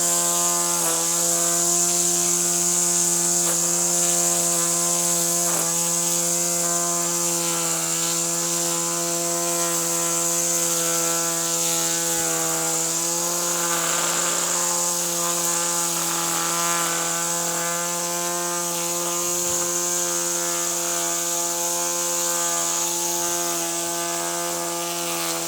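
A line trimmer running flat out as it cuts grass, a loud, constant high-pitched motor whine with strong steady harmonics that holds without a break for the whole stretch.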